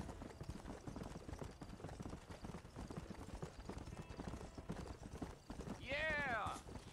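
Steady clip-clop of horse hooves trotting in the Western video game Red Dead Redemption, a continuous rhythmic patter under a voice, with a brief whinny near the end.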